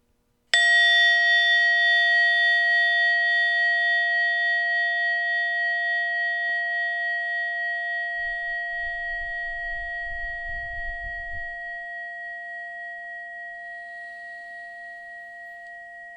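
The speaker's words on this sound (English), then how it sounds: "in a moment you'll hear a bell or a chime" A single bright bell chime rings out with a sharp strike, then its pure tones sustain and slowly fade over many seconds, with a brief low rumble midway.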